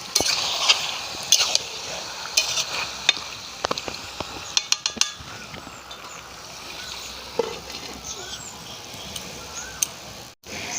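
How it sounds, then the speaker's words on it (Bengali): Chicken curry with country chicken, cooked village style, gets stirred in a pot: soft scraping and light clinks of a spoon against metal over a steady faint sizzle, ending with a lid clack. "আমি এখন একটু নেড়ে চেড়ে নিয়ে চাপা দিয়ে দেব"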